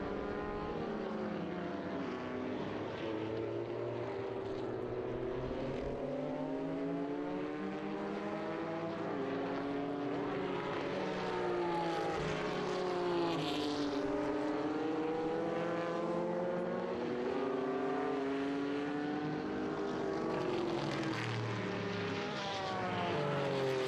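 1974 IMSA Porsche 911 race car on its final lap in a Group 5 vintage race, a loud sustained engine roar rising and falling in pitch as it works through gears, with no talk.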